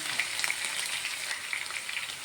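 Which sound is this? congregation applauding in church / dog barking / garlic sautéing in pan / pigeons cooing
garlic sautéing in pan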